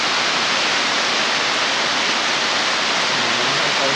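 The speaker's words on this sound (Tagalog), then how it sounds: "Grabe yung ulan." Heavy rain pours down steadily outdoors, a dense, loud, unbroken hiss with no pauses or voices.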